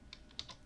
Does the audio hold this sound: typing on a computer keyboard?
yes